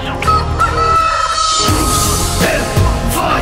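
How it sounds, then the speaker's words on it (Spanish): Rooster crow used as a sound effect inside a Spanish-language rap track about a fighting rooster, a loud stretched call ringing over the dense music beat. "El poder de su ataque está en su kikiriki."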